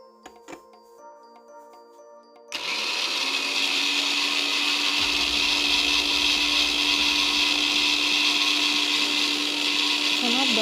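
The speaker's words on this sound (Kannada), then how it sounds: "ಸೊ ಇವಾಗ ಮಿಕ್ಸಿಗೆ ಹಾಕ್ಕೊಳ್ಳೋಣ." A mixer grinder blends mint paste with a little water for crispy pudina chakkuli, starting abruptly and then running as a loud, steady whir that continues to the end.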